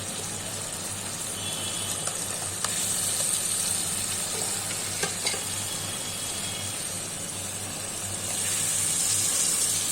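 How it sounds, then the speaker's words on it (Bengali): Goat liver hisses and sizzles steadily in a hot pan with spices, a dense continuous frying crackle with occasional stirring clicks, swelling slightly louder near the end. "এখন আমি কলিজাটা দিয়ে দিচ্ছি।"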